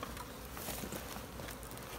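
A swarm of honeybees clustered in a ball near a golf course gives off a dense, steady buzzing drone that holds at a constant low level without a break.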